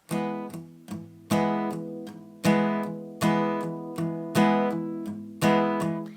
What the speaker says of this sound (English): if you're doing the down strumming, it's going to sound like this